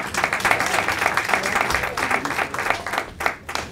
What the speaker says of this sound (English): If you could all stand up and take a round of applause.